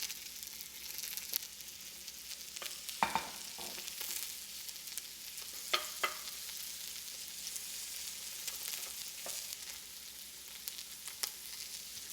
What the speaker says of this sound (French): je vais en profiter pour faire cuire mon oignon, ma papaye verte mi-mûre.